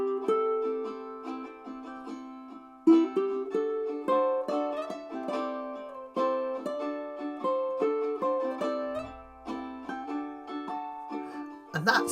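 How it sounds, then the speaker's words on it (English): Ukulele solo picked over a backing track, with a melodic line of plucked notes riding above steady chords, fairly close and clear, with no talking throughout. "if I just play a backing track, just to give you an idea, it's such a short solo"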